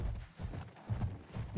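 Horse galloping in Battlefield 1, a quick rhythmic drum of hoofbeats thudding close and fairly low, steady throughout the short burst with mechanical rattle behind it.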